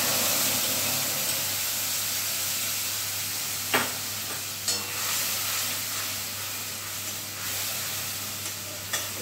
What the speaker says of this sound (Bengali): সেই মশলার পেস্টটা এবার কড়াইতে দিয়ে দিলাম